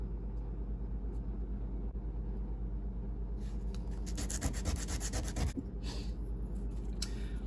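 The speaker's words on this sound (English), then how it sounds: "gonna get a rat tail file and open it up just a hair more" A rat tail file rasps inside a wooden buck grunt call, steady low scraping that turns into quick, rhythmic back-and-forth strokes in the second half, close and fairly loud over a low hum.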